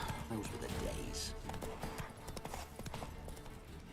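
Roach, Geralt's horse in The Witcher 3, clip-clopping with steady hoof beats at a walk over game ambience, with a brief whinny and a voice talking over it.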